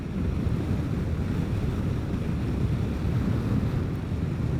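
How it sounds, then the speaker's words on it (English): Steady, loud wind buffets the microphone throughout a Vespa GTS scooter ride, a continuous low roar with no gaps and no voices. "pretty darn good wind blowing today"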